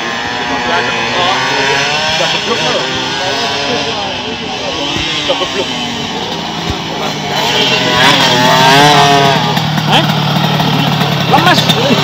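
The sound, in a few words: Yamaha RX King motorcycle engine revving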